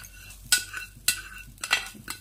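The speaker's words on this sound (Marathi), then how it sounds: "हे आता मी परत डिशमध्ये कांदा मिरची हे आता मी काढत आहे।" Fried onion and chili being scooped from a pan into a dish while making Maharashtrian-style stuffed pomfret: four sharp utensil scrapes and clinks against cookware, close and moderately loud, spaced about half a second apart with no talking.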